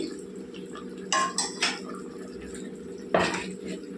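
Prawn pulao being mixed in a cooking pot, a few sharp metallic scrapes and clinks of a utensil against the pot over a steady low hum.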